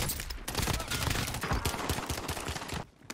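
Automatic gunfire in Call of Duty Warzone rattles in fast, dense bursts for nearly three seconds before cutting off, with a voice speaking over the shooting.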